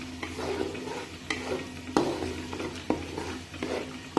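Ingredients for alsi pinni, including raisins, frying in a pan. A spoon scrapes and taps at regular intervals over a steady sizzle, the close knocks landing about every half second to second.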